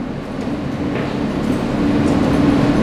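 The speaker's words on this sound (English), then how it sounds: "Jamaica-179th Street Bound F local train" An R160 F local subway train on the IND Queens Boulevard Line, bound for Jamaica-179th Street, rumbles steadily at 169th Street station with a loud, continuous roar that swells slightly as the train moves.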